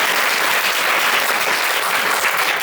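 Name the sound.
audience applause for the teacher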